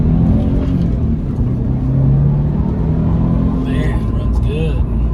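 Turbocharged 2010 Subaru Impreza STI six-speed manual wagon pulling onto a highway, its engine rumbling and droning steadily under loud road and wind noise, recorded from inside the cabin.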